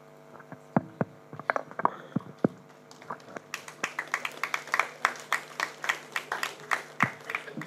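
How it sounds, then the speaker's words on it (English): Scattered claps at an Interact district assembly build into fuller, rhythmic applause from the audience, starting with a few isolated hand claps and then thickening into a steady patter. "Thank you for clapping"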